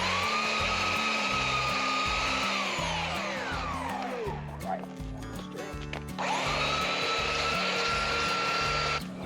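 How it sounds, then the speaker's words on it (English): Power sanding on old rough-sawn oak boards, a loud steady machine whine running throughout with a brief dip midway, alone without talk. "He's gonna sand one side of those down, and we'll get the stuff assembled."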